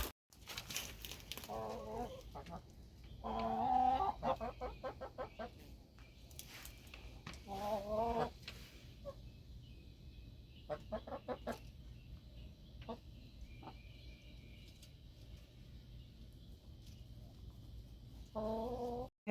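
Chickens cluck and chatter in bursts nearby in a garden, with soft rustling and occasional footsteps in between, fairly quiet overall.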